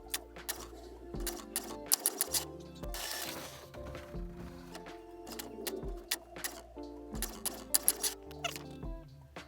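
A home printer runs through a print job on paper, with irregular mechanical clicks, clunks and whirring feed movements at moderate distance and no speech.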